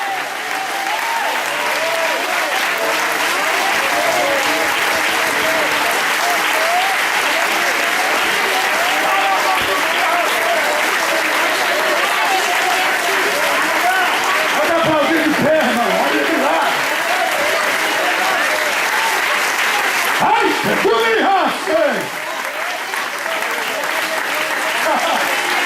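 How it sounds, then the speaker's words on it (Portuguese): Church congregation applauding to God during a service with a pastor, long continuous dense clapping from a large crowd with voices, shouting and music-like tones rising through it. "Aplauda a Deus."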